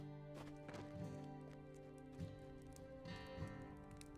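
A horse in the LOTRO video game clip-clops up stairs with several uneven hoof knocks spaced across a few seconds, faint under a sustained droning musical background, with no talking.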